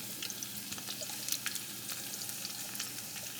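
Pressed garlic and celery sizzle in heating oil in a pan, a steady close crackle with scattered sharper pops and occasional stirring clicks, with no talking.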